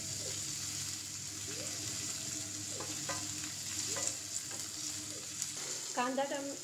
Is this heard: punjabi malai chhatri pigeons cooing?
no